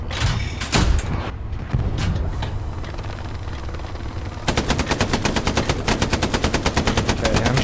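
Machine gun fire in the World War II shooter Hell Let Loose: scattered loud shots and booms give way to a sustained, rapid, evenly spaced burst of automatic fire close by, with no talk.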